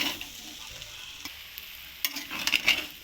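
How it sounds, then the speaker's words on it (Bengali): Pasta with chicken being stirred together with sauce in a frying pan, giving soft scraping and sizzling with a few louder clinks and stirring bursts near the end, no voices. "সসটা দিয়ে আমরা এবার মিলিয়ে নেব।"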